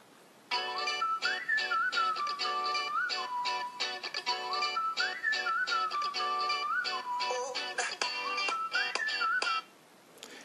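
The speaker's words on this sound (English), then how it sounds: "I'm going to put the plug back in the bottom and play you a bit of a song" A whistled, melodic song plays from a phone sealed inside a waterproof case, continuous for about nine seconds with a muffled, slightly boxy tone, moderately loud, with no talking.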